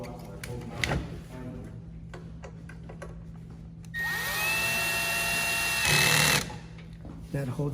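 A power driver whirs for a couple of seconds, then briefly strains louder while driving screws to mount a vacuum motor for an iQTS244/iQMS362 unit. Light ticks and handling sounds come before it.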